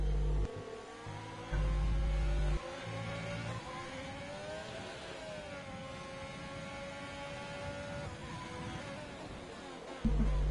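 A Ferrari race car in a racing game holds a steady, rising and falling engine whine with shifting harmonic tones and brief revs, fairly loud and continuous throughout.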